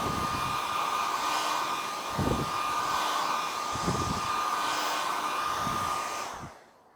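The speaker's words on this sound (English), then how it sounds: "Let's give it a quick dry with the hairdryer quickly." A hairdryer runs steadily at close range, drying paint on a leather bag during a piping repair, with a constant airy whine and a few low bumps before it cuts off near the end.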